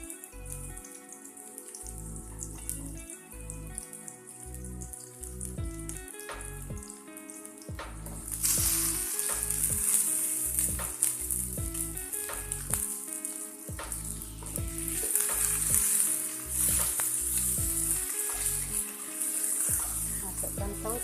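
Chili and tomato hit a pan of onion and ginger frying for squid tauco, starting a bright, loud sizzling hiss that holds steady under rhythmic background music.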